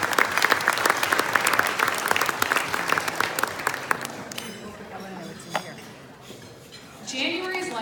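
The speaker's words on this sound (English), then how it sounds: "a round of applause to our sponsors" Luncheon audience applauding sponsors: a few seconds of lively clapping from a room of people that thins and fades out, leaving sparse claps and quiet room noise with a voice returning at the end.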